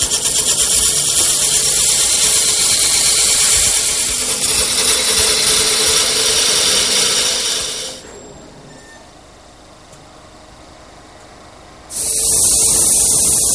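Wood lathe spinning a table-leg turning while a parting tool cuts in, a steady hissing scrape that drops away to a quiet hum of the machine and then bursts back loudly at full strength.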